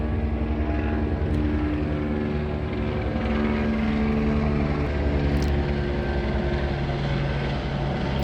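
A helicopter flies overhead, its steady rotor and engine drone loud and continuous throughout, with a faint hiss of wind.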